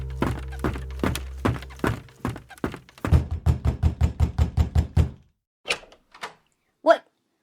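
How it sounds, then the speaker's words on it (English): Repeated heavy banging on a door, a slow series of loud thumps followed by a rapid burst of pounding, then a few separate knocks after a pause, close and alone. "Who is banging on the door?"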